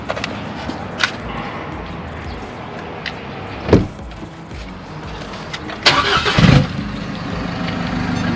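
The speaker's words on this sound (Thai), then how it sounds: "ผมขออนุญาตสตาร์ทรถหน่อยนะครับ" An Isuzu X-Series pickup truck's diesel engine cranks and catches after a quiet stretch with a few clicks, then settles into a steady idle nearby.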